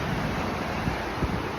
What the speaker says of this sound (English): A few waves coming in.